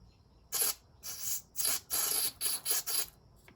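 A series of short, hissing brake cleaner sprays onto a banjo bolt during a Volvo S80 PCV oil trap replacement, about seven bursts in quick succession with brief pauses, close and fairly quiet.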